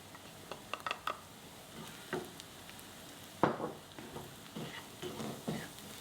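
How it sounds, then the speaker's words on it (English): Spices and onion being stirred in a frying pan for Mumbai pav bhaji, with turmeric among the spices; a spoon scrapes and clinks in scattered strokes over a faint sizzle, close and fairly quiet. "Now you just want to stir this because the turmeric will stick as well."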